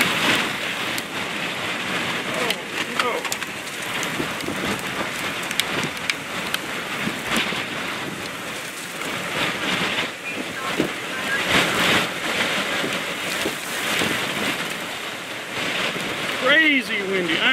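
Strong, gusty wind during a tornado in Selden, Kansas buffets and roars continuously, with rough bursts and rumbling noise, close to the listener.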